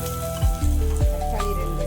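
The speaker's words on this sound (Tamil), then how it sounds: "எண்ணெய் சூடாயிடுச்சு. வெங்காயம் போட்டுக்கலாங்க." Onions go into hot oil for a dried anchovy fish curry, giving a loud, steady frying sizzle with a few stirring scrapes, heard close up with no talking.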